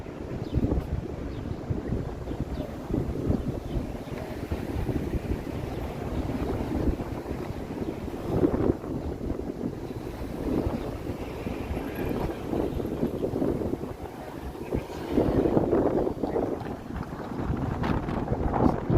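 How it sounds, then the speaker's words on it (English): Gusty wind blowing outdoors in downtown Toronto's Old Town on an evening walk, a steady loud rush with buffeting on the microphone and brief stronger gusts throughout. "the wind is kicking up"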